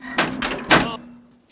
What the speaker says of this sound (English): I need to get out, open these two doors!